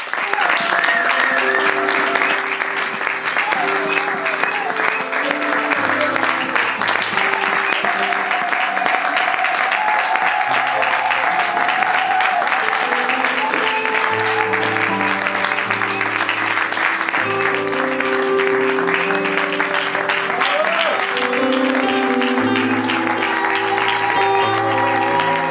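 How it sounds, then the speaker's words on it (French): A standing church congregation applauds loudly and without a break, mixed with voices and music throughout. "nous restons debout et nous acclamons très fort le Seigneur"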